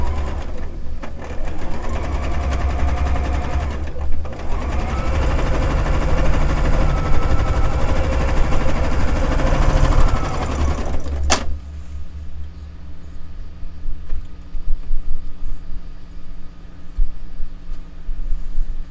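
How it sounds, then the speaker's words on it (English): A sewing machine restitches a quilt block seam, running in a steady loud whirring stretch of about eleven seconds before stopping, with quieter handling noise afterward. "So we shall resew with the full 1/4 inch instead of the scant and pick it up."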